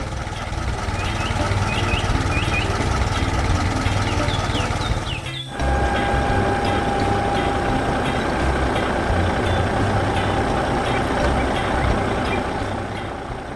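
A heavy tractor engine rumbles steadily and loudly throughout while working in a field, with a high, thin beeping tone running through the second half.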